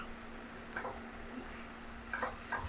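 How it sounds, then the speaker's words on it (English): Cod fish pieces being turned into curry masala in a pan, with soft intermittent stirring scrapes and a low steady sizzle beneath, faint and close. "so we add the cod. Now you cover the cod with the masala"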